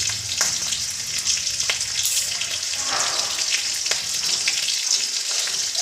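Hot oil sizzles in a pan before tender radish greens and green chili go in, a steady close frying hiss with a few sharp clicks and a brief watery splash partway through.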